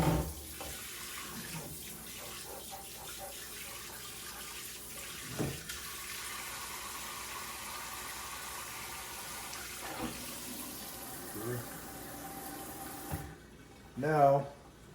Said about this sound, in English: first thing I do is get the hot water running.